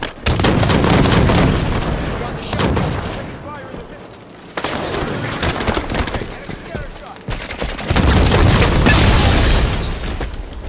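Video game gunfire rings out in loud, dense bursts of shots and booming blasts during a multiplayer match, with sustained firing that dips briefly in the middle before swelling again.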